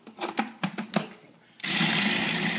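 After a few short knocks and taps, a kitchen blender roars to life and runs steadily, its blade whirring loudly as it churns a batch.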